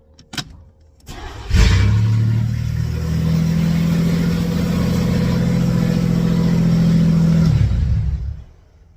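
A 1985 Camaro engine, just fitted with a new fuel pump and with its exhaust still disconnected, cranks briefly, catches and settles into a loud, steady, rough idle close by for several seconds before shutting off.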